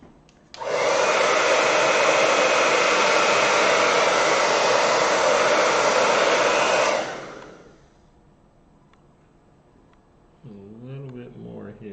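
Hair dryer blowing loud and close for about six seconds to dry watercolor paint on a Christmas card, then switching off, followed by quiet room tone and a brief voice near the end.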